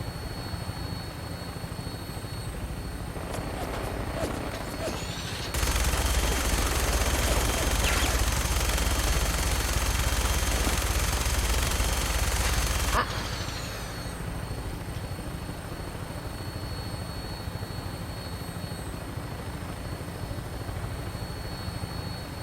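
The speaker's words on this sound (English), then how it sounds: "Your minigun should be loaded and ready to fire." Sustained minigun fire from an aircraft in Fallout 4, a dense continuous roar lasting several seconds over a steady helicopter rotor and engine drone that continues before and after the burst.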